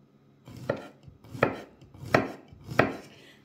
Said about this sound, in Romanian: Deci tocăm tot subțire, mărunt.